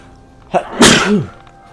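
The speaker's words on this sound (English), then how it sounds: "Man, I really need to sneeze." One loud, close sneeze opens with a short sharp intake and breaks into a forceful, ragged burst with a voiced tail, heard alone against a low steady hum.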